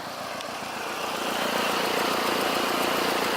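A car with an EJ22 turbo engine and exhaust wrap on a test drive, its engine droning steadily and growing louder as it pulls, with no talk over it.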